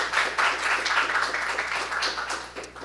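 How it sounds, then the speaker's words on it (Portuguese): An audience at an academic panel gives a speaker a round of applause, steady, dense clapping of a moderate crowd that gradually thins out toward the end. "gostaria de saudá-la com uma salva de palmas"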